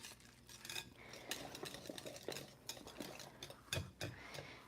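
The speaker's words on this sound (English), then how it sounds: "the more that you whisk it, the more fluffy that it gets and the better consistency that your broccoli casserole turns out" Egg is whisked into a broccoli casserole mixture in a bowl, with quick, irregular clinks and scrapes of a utensil against the dish. The sound is close but faint, with no talk.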